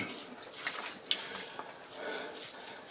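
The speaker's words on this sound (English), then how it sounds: "And just spraying a fine spray on it like this covers up the seeds." A fine water spray mists freshly sown root-crop seeds, giving a soft, steady hiss with a few faint droplet patters, close by and alone for a few seconds.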